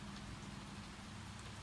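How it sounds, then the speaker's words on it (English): Steady rain falls outside on a chilly 50-degree day, a soft continuous hiss heard alone at a distance. "It's 50 degrees and raining."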